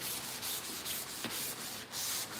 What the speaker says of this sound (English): we're gonna take our little sanding sponge, right?